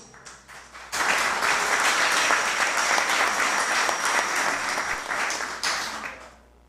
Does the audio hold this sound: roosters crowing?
no